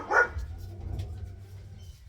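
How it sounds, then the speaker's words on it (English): A pet dog outside a door lets out a single sharp bark, then soft whimpering and rustling follow at moderate distance. "Don't mind Mia, my daughter's dog, and she's always hanging around outside my door"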